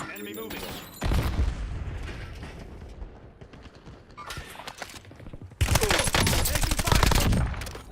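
Gunfire in Call of Duty Black Ops battle royale, bursts of rapid automatic shots crackling loud at times and more distant at others, with clattering footsteps and movement between volleys.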